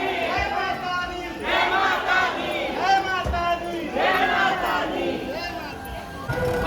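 A dense crowd at Banke Bihari temple in Vrindavan chants and shouts in rising waves, many voices overlapping in loud rhythmic bursts with continuous murmur beneath.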